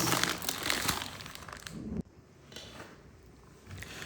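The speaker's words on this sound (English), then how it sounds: "So let's unwrap this." Plastic packaging around a mobile phone chest strap mount is torn and crumpled open, loud close crinkling for two seconds, then a sharp break and quieter rustling.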